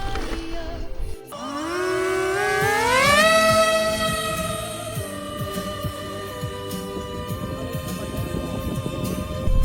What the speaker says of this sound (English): the foamboard hero takes to the sky, throttling up